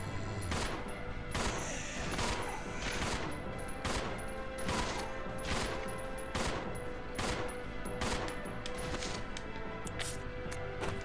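Repeated gunshots in Resident Evil Zero HD aboard a runaway train: steady, evenly spaced loud shots, roughly one per second, over constant background noise.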